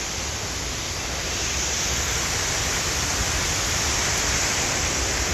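A constant heavy rush from the Athirappilly waterfall, forest falls plunging nearby, loud and unbroken with no talking over it.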